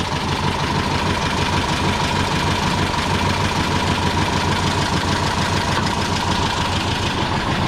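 An air-cooled Volkswagen engine from a warehouse find idles loudly and steadily nearby, with an even, rapid chugging rhythm and no talk over it.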